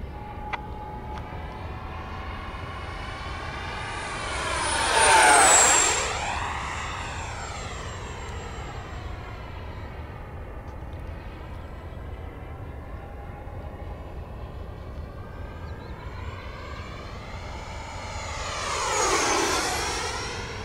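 An FMS 80mm Rafale RC model jet with an electric ducted fan makes two fast low passes, its whine rising sharply in pitch as it approaches and falling away as it leaves, with a quieter hum between the passes.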